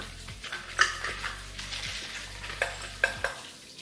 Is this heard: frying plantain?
yes